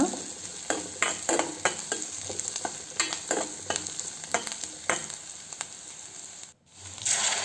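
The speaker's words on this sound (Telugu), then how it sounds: "కరివేపాకు ఒక 2 మినిట్స్ వరకు అలా ఫ్రై అయిన తర్వాత" Curry leaves fry in a pan with steady oily sizzling, broken by repeated scraping stirring strokes, close up with no voices.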